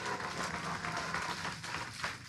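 At a Phaneroo church service, a congregation applauds its COO with full, continuous clapping from many people that keeps a fairly level loudness and tapers slightly at the end.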